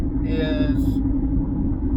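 A Chevrolet Equinox, its oil dosed with Seafoam treatment, cruises down the road with a steady low engine and road rumble, heard from inside the cabin while a voice speaks briefly over it.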